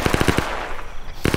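Machine gun fire in an Arma 3 Vietnam multiplayer battle: a fast burst of about six loud close shots, a short gap with a decaying echo, then another rapid burst starting.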